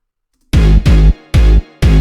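A punchy brass sample stabs together with a deep 808 bass in four heavy, loud hits after half a second of silence, each one a short sustained blast with a rhythmic gap.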